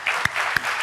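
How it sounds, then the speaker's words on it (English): An audience claps steadily in a close, dense wash of applause, with a few sharper individual claps standing out over less than a second. "Please join me in applauding Mr."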